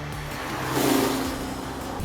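A BMW i8 hybrid sports car accelerating, its engine note rising and swelling to a peak before easing slightly, close and loud with no voices.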